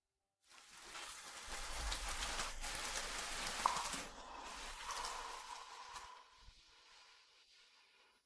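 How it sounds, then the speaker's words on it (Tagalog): Steady rain falls outside, a soft even hiss of drops on surfaces that swells for a few seconds and then thins out toward the end. "Umuulan sa labas?"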